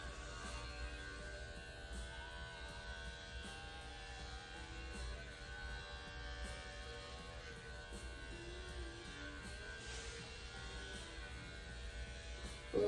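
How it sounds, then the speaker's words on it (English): Electric clippers running over a Maltese Yorkie mix's coat during a trim, a faint, steady motor buzz and hum that holds evenly throughout, with no talking. "we're going to clipper him all the way down to his tail"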